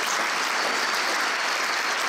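A crowd claps steadily and loudly, a dense wash of applause with no pauses throughout.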